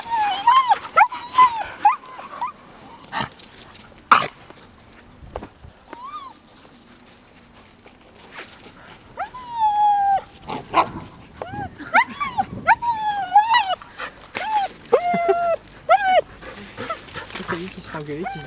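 A dog barks, yips and whimpers in short bursts during an outdoor walk, its cries coming and going near the microphone while people talk on and off around it.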